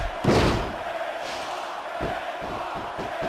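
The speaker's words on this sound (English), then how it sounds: "Sounds like this crowd's got something on their minds, King." A roaring arena crowd in the wrestling video game WWE Smackdown vs Raw 2006, a heavy slam thud up front, then sustained crowd noise with rhythmic thumping and chanting underneath.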